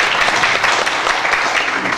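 A symposium audience gives dense, steady applause to welcome the CEO of Gongsaenggongso, a local-food social enterprise in Gongju, Korea. The clapping stays loud and continuous throughout.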